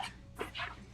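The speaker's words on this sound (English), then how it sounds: "If you hear some noises in the background, I have my puppy today with me at work." A puppy brought along to a workplace whimpers softly in the background, one short whine and then a second, faint and fairly distant.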